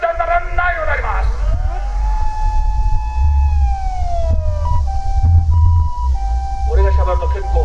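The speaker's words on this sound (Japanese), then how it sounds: "あ、救急車が通るから渡るな" An ambulance siren wails and falls in pitch as it passes a Tokyo train station, over loud rumbling traffic with voices breaking in around it.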